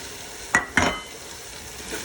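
Chili and turmeric powder sautéing in hot oil in a pan for chicken dum biryani, with two quick stirring scrapes over a faint steady sizzle, close and alone.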